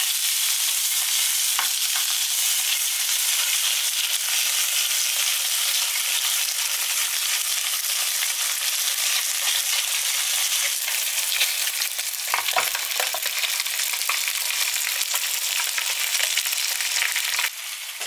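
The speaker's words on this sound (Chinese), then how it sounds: "下面开始煎鱼，煎鱼的时候不用放多少油，" Crucian carp fry in a pan with little oil, giving a steady close sizzle and crackle that runs on for a long stretch with occasional scraping pops.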